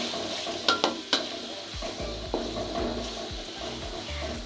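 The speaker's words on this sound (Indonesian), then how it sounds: "Oke, kita bisa masukkan daun salam, kita juga masukkan serai, kita aduk" Bay leaves and lemongrass fry in a pan while being stirred. A few sharp spatula taps and scrapes sit over a steady, moderate sizzle, with soft stirring rustles continuing throughout.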